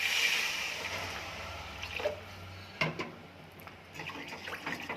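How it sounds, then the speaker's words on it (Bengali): Water is poured into a pan of sautéed vegetables and tomato for a thin curry, giving a close splashing pour for about two seconds followed by softer bubbling and stirring. "এবার আমি জল দিয়ে দিচ্ছি।"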